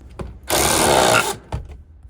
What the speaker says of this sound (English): So I'm gonna tighten that bolt, see what happens.